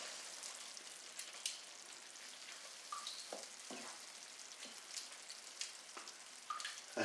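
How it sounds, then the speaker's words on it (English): Spaghetti bolognese sauce with stirred-in stock cube simmering in a pan, a faint steady hiss with scattered soft pops and bubbling blips, quiet and close with no voices. "what we'll do, we'll let it simmer for a bit."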